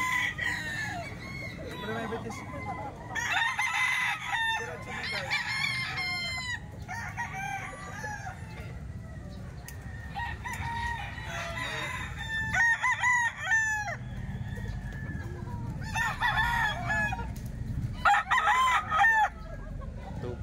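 Ball stag roosters at a cockfighting market in Baliwag crow repeatedly, several birds overlapping in bursts every few seconds, loud and close over a busy background murmur with some clucking.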